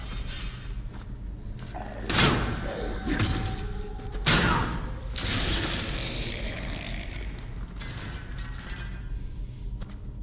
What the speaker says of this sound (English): These dried up old brittle bones, they crumble well under the weight of this mace, don't they?